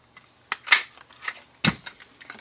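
Scissors snip through paper while cutting out a paper fox body for a card, giving a few sharp close crisp cuts with rustling between them, without any talk.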